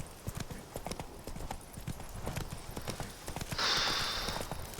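Hooves clatter in a fast, steady galloping rhythm from a horse ridden in The Witcher 3, close and fairly quiet, with a brief hiss late in the run and no talking.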